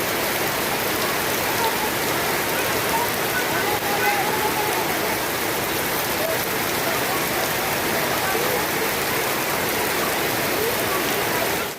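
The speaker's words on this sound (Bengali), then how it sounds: "আমরা সবাই বৃষ্টি উপভোগ করছি স্কুলে এসে।" Steady rain pours down at a school on a birthday, a dense, even wash of falling water and surface patter that holds at the same loud level throughout with no voices.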